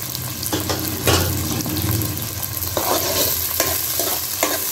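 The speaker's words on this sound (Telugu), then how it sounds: "ఇది మొత్తం ఒకసారి ఫ్రై చేసుకుందాం ఉల్లిపాయల్ని." Two large chopped onions and green chilies frying in oil for a goat head curry, a steady close sizzle with stirring scrapes and occasional clatters of the spoon against the pan.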